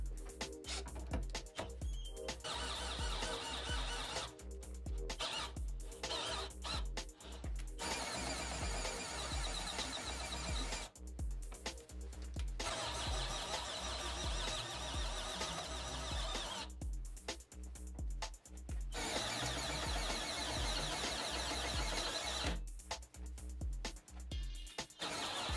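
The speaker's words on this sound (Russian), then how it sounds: "Буду использовать для этого простой и бюджетный шуруповерт." A budget cordless screwdriver drives a pipe bender as it rolls a 40 by 20 profile pipe, giving a loud, continuous motor whine with several short drops and pauses, and no talk.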